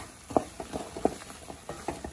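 A spoon stirs a thick jaggery mix with ground cardamom sugar and dry ginger powder, giving soft, irregular scraping and patting strokes spaced about every half second, close and fairly quiet.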